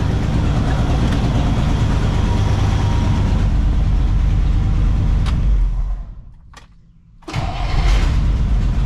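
A 1964 Pontiac Catalina barn-find engine with one exhaust pipe missing, running loud and rough with a raw, uneven exhaust rumble, then dropping away briefly to near silence before it catches again and fires back up to a strong roar.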